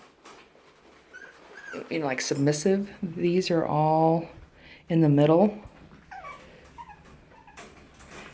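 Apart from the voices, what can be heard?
Cairn Terrier puppies whimpering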